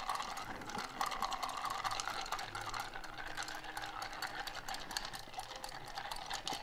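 Ice clinking and swirling in a mixing glass as a martini is stirred, a steady soft rattling that continues without pause, fairly quiet and alone.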